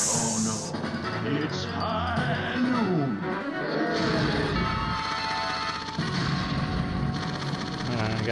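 Cactus Canyon pinball machine during its High Noon mode, blasting Western-style gunshot sound effects mixed with music, sweeping electronic tones and game audio, loud and continuous, with a voice partly audible underneath.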